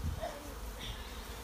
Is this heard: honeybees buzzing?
yes